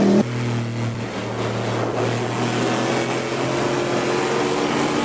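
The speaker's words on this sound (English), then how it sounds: "That's the sound of an aluminum block titanium valve V8 pushed to the limit" An aluminum-block, titanium-valve V8 race car at endurance racing screams past at high revs, a loud sustained engine roar that fills the whole stretch with little change.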